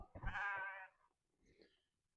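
A sheep on a farm before shearing gives one loud, close, wavering bleat, followed by a fainter second call.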